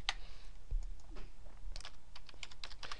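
Keys clatter on a computer keyboard while a spreadsheet formula is typed, an irregular run of close, crisp taps and short bursts with no talking.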